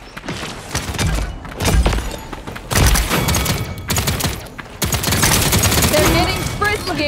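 Rapid gunfire from the Paladins hero shooter, bursts of automatic shots and impacts crackling in a busy firefight, loud and repeated across the scene with brief gaps and game effects layered between volleys.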